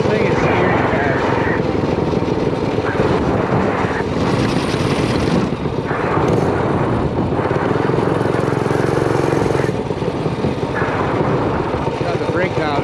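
Rat rod mini bike engine revving hard at speed, a loud continuous buzzing drone with shifting pitch as the rider accelerates, close to the recorder and heard alone.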